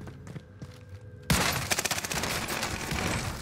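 Close, loud shotgun blasts in Warzone burst out after a quieter stretch of footsteps and movement, followed by dense, rapid gunfire and clatter that keeps going to the end.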